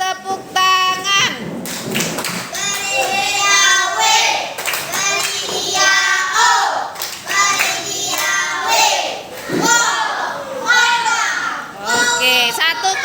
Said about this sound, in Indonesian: berikan dia tepuk tangan